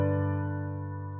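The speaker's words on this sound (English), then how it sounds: "my left hand is playing the tenor voice, the D below middle C, and my right hand is playing the alto voice" Two piano notes held together, a D below middle C and a B above it, sounding as a sustained interval that slowly decays, fairly close and alone with no talking.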